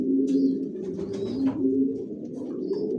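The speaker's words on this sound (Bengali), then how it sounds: "সবাই কি লাইনের কবুতর পালি আমার লফটে, জনসনের অরিজিনাল রেসার।" Johnson racer pigeons in a loft give soft, low, rolling coos that overlap one another, with faint wing and bird sounds mixed in nearby.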